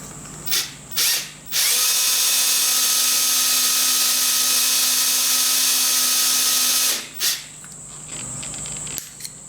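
A power drill whines steadily at high speed for several seconds, drilling into a metal part of a Titan .60 glow plug engine, bracketed by short bursts of start-and-stop drilling before and after.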